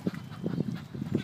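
Ducks quack in several short, close bursts, a quick run of nasal calls near a pond.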